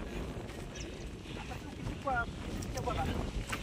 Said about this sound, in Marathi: वारा बघ किती सुंदर आहे